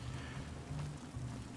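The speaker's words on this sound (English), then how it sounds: "And it's raining." Steady rain falls in the video game Fallout New Vegas, a constant, faint hiss of drops with no talk over it.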